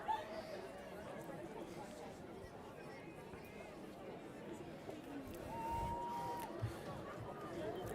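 Spectators chatter on the sidelines of a men's varsity rugby match, a steady, diffuse babble of many voices at a moderate distance that swells slightly toward the end, with a few faint cheers and calls.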